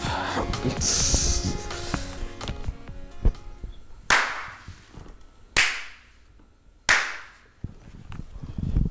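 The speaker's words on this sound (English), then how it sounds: "let's clap" Sharp, loud hand claps ring out one at a time while a podcast recording starts, each one crisp and echoing briefly, after some softer shuffling and handling noise.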